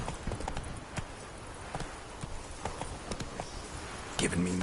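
Roach the horse galloping in The Witcher 3, a fast rhythmic clip-clop of hooves close by, steady throughout, with a brief voice at the end.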